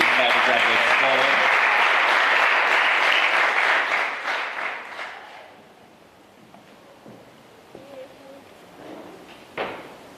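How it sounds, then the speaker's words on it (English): Loud applause from an audience at a primary school leaving ceremony as a graduate is called forward, swelling for about four seconds then fading into a quiet room with scattered knocks and shuffling. "please give him a round of applause"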